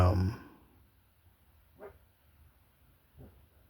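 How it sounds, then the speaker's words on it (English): A loud dog bark right at the start, followed by two fainter, brief yips or barks spaced a second or so apart in a quiet room. "Don't start barking again, please. You're very loud and my window's open."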